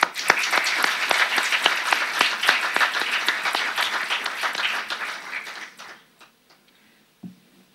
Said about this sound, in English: I would like to ask a large applause for your presence here in our university.